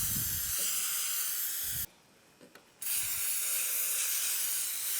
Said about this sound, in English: And we're going to spray down both sides.